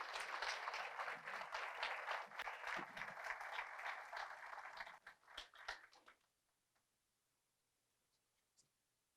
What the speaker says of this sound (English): Once again, ladies and gentlemen, a round of applause for Joanne Chadwick